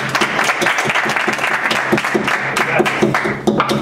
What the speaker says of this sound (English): Clap for her, bravo!